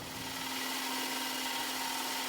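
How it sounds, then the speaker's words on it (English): A steady, abrasive sanding hiss as a Shopsmith sanding disc sands walnut wood on a woodturning piece, running continuously beneath a constant motor hum. "This is a Shopsmith sanding disc, and we're just sanding off all that extra walnut"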